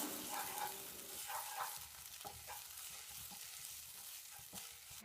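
Crushed garlic, ginger and curry leaves sauté in hot oil, making a soft, continuous sizzle with a few light stirring scrapes. It stays fairly quiet and even throughout, with no voices.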